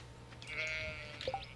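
A sheep in the farming video game Stardew Valley lets out a short, nasal bleat with a wavering pitch, followed by a brief second call, heard alone and fairly clear.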